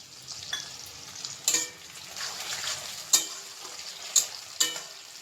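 Onions and two tomatoes frying in a pan while a chicken dish is cooked, giving a steady sizzle with a few sharp stirring scrapes and clicks near the microphone.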